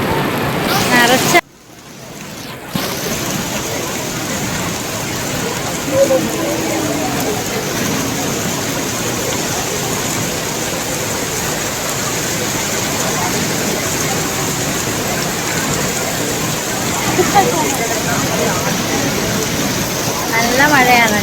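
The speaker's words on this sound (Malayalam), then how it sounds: "മഴ അങ്ങ് കനത്തു. വേറെ ഒന്നുമില്ല, മഴ മാത്രമേ ഉള്ളേ." Heavy rain pours down steadily during a trip to Malayattoor, a dense, continuous hiss that stays loud and close with only a brief dip near the start.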